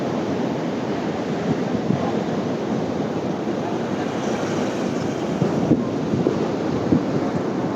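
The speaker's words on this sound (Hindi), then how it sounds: "देखो यार कैसा वाटरफॉल" A waterfall at Bhimashankar roars in a dense, steady rush of falling water, loud and continuous throughout, with faint wind buffeting and no clear talk.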